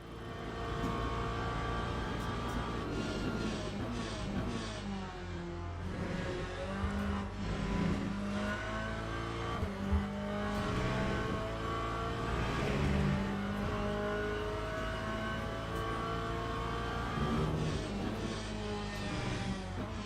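A race car engine in the Le Mans Ultimate video game revs and drones continuously, rising and falling in pitch as gears shift, loud and steady with no speech.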